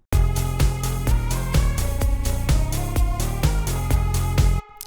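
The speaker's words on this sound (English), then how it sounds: "So we have only one single sub bass." Synth sub bass as a lone low instrument in a produced electronic track, pulsing steadily and loudly with a rhythmic beat above it for nearly five seconds before cutting off abruptly.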